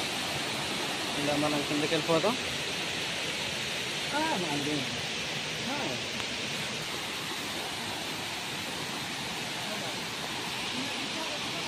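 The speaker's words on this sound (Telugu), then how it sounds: "ఇదే ఫ్రెండ్స్ కొత్తపల్లి వాటర్ ఫాల్స్. మొత్తం బురద నీళ్ళతో నిండిపోయింది." Kothapalli waterfalls running full of muddy water after rain make a constant rushing roar, heard steadily while someone speaks briefly over it.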